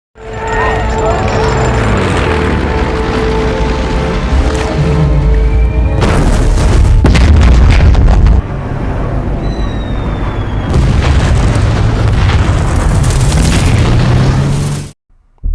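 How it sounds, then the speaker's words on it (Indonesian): Heavy booming explosions from a German bomber attack at sea rumble loud and low, one after another, over a dense roar, with a voice narrating on top. "Ledakan besar mengguncang lautan"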